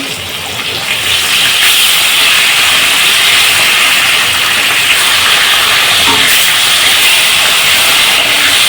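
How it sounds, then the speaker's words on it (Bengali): Rice boils hard in a pot on the stove, a loud, steady hiss of steam and bubbling that swells after the first second and holds unbroken to the end. "ভাত এদিকে ফুটে গেছে"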